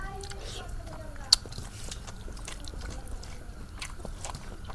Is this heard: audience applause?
no